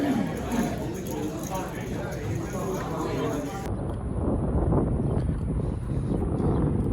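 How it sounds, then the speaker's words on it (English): Steady low rumbling wind buffets the microphone outdoors outside a poker room in Katy, Texas, a constant roar with no clear speech. "It's a tad windy."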